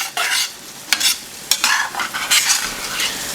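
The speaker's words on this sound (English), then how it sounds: "I'm going to stir this in, then I will taste again, adjust, and let cook for 15 to 20 minutes." A spoon stirs sour cream into simmering Soviet-style beef stroganoff in a pan, close and loud, with repeated scraping strokes over a soft sizzle and no voices.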